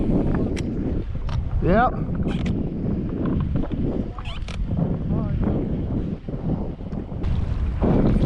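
Wind buffets a boat on Lake Guntersville, a steady rushing roar across the microphone with occasional gusts, while people talk briefly over it.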